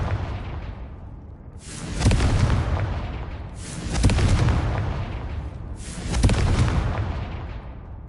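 Three loud fiery Confringo spell explosions in Hogwarts Legacy, evenly spaced about two seconds apart, each a sudden booming burst with a rumbling decay.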